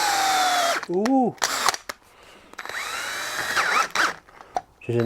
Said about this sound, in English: This is a nice sharp drill